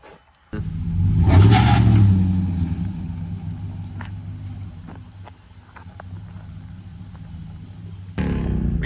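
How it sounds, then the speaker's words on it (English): A 2011 Chevrolet Silverado Z71 LT pickup engine, recently fixed of a blown fuse, starts and revs up strongly near the microphone, then settles into a steady running hum with a second rise at the end. "We got the Silverado going."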